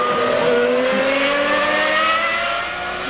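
Formula 1 cars at the 1995 Japanese Grand Prix, including a Ferrari with a smoking, oil-leaking V12, a high whining engine scream rising in pitch as the cars pass, loud and continuous under race-broadcast noise.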